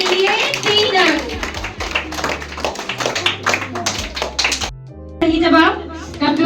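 Rhythmic group clapping rings out for a correct answer at a Hindi children's quiz show, mixed with voices and background music, pausing briefly before a final burst.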